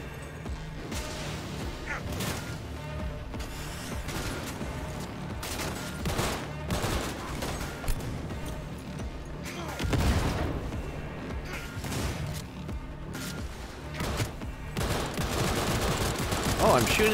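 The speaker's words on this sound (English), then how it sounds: "Oh, I'm shooting him through the thing." Dense, continuous gunfire from the video game Cyberpunk 2077, rapid overlapping bursts and fusillades that roll on without pause, loud and close, with occasional heavier crashing hits and faint voices mixed underneath.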